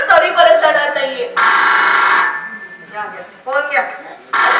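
A telephone rings in a Marathi drama scene, sounding in two loud sustained bursts between stretches of talking voices.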